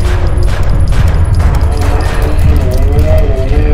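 Gunfire in a Resident Evil-style survival horror game, loud rapid shots and impacts layered over a busy, constant game mix while a player talks.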